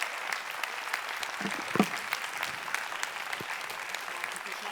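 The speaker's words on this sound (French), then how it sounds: "Un tonnerre d'applaudissements, s'il vous plaît, pour Mélissa." Steady applause from a conference audience fills the room, an even wash of clapping with a few louder claps standing out.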